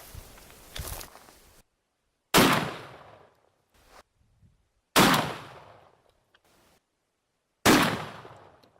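Four sharp shotgun blasts of turkey loads fired at penetration test targets outdoors, loud and evenly spaced a couple of seconds apart, each followed by a decaying echo, with faint shuffling between shots.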